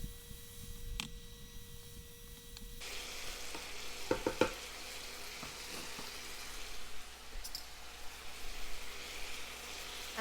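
Chicken and vegetables with basil sizzle and fry steadily in a hot stir-fry pan, a continuous close crackle with a few brief clinks of a utensil against the pan partway through, no talking.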